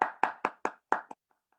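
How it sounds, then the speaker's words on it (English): Five crisp hand claps ring out in a quick, uneven run after a round of applause is called for at a Gen Z voters event. A softer sixth clap and two faint taps trail off into silence. "Give yourselves a round of applause."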